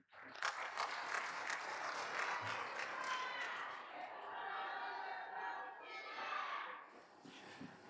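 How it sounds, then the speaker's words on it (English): Audience applause at a conference opening ceremony, a sustained round of clapping from a seated crowd that stays steady for several seconds before tapering off, with a voice briefly audible. "let's once again give Mr. James Reid a big round of applause"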